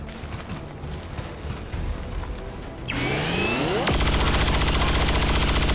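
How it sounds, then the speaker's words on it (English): Suppressing fire in the video game XCOM 2 starts with a rising whoosh, then breaks into a dense, rapid, continuous burst of automatic gunfire, loud and steady to the end. "Let's do this into suppressing fire."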